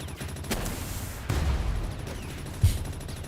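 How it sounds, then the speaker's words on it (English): In the video game Palworld, gunfire aimed at the player arrives as a few dull, booming shots and bursts over a steady background hum, with one louder blast near the end. "Can y'all stop shooting me, please?"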